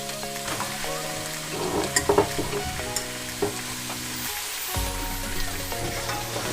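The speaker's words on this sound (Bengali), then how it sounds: "হালকা করে তেলের সাথে একটু নাড়াচাড়া করে নেবো" Meat being stirred and fried in oil for a winter peas and black pepper curry, a steady close sizzle with scraping stir strokes and a few sharper clatters, no talk.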